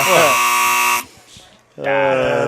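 A loud, harsh electronic buzzer blares for about a second, cuts out briefly, then sounds again, with no voices.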